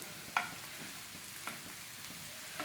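Golden coin egg slices coated in cornflour frying in a pan, a soft steady sizzle with a few faint clicks and scrapes, close and quiet with no talking.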